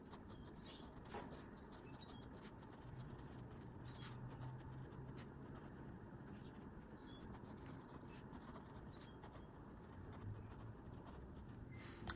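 A Leonardo Momento Zero fountain pen scratches across paper in a quiet room, faint continuous nib scratching with small strokes and pauses throughout.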